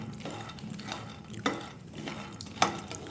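Peanuts dry-roasting in a pan for sugar-free peanut laddu, cooked until the red skins loosen, are stirred with a steady scraping rustle, punctuated by two sharper clinks of the utensil against the pan.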